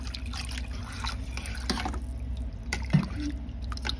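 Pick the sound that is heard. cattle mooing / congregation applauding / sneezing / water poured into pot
water poured into pot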